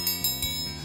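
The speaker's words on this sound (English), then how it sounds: "This triangle is really cool because it makes a really pretty ding sound" A metal triangle is struck several times, giving bright, shimmering dings in quick succession that ring over soft background music.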